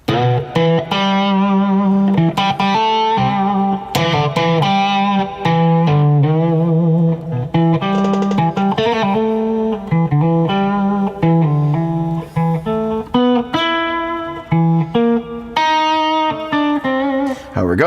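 Electric guitar playing a moody, melodic line of sustained notes and chords through a reverb effect, each note ringing out with a lingering wash of tail.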